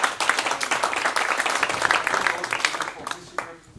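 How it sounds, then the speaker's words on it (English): A conference audience claps in a lively burst of close, crisp applause, which thins out near the end while someone talks over it. "Let's give them a big round of applause,"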